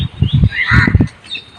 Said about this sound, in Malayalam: ഇവിടെ ഒരുപാട് തത്തകളുണ്ട് കേട്ടോ,